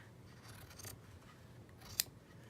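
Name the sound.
scissors cutting fabric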